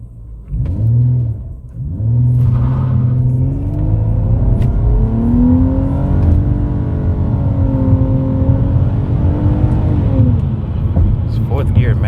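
A 2014 Nissan Maxima SV with sport and tech package pulling away hard from a standstill, its engine droning loud and close in a steady rising rev that swells and holds, with no talk over it.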